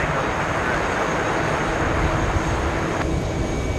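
Jet airplane taking off at JFK airport, a steady, loud broadband engine roar holding level throughout without breaks.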